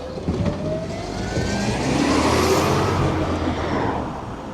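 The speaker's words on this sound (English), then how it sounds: "trying to get past the recycling truck. It's picking up all the recycling." A recycling truck works along a street collecting recycling, its engine rumbling loud and close with a rising whine and hiss of air as it moves past.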